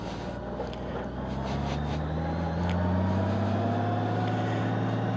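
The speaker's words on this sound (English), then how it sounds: "we are back on the bike and back on the road" Honda Goldwing motorcycle cruising along a back road in Missouri, a steady engine drone with rising pitch as it accelerates, mixed with wind rush and no talking.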